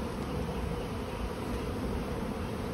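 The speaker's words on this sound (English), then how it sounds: "Lots of bees. Lots and lots and lots of bees." Dense, steady buzzing of many honey bees from an open, crowded hive during a frame inspection, a continuous close hum with no talk over it.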